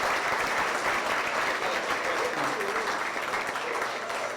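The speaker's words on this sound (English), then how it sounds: "Let's give them one last round of applause." Steady, dense applause from an elementary school audience cheering fifth graders, a continuous wash of many hands clapping at once that holds even and full throughout, with faint crowd murmur beneath.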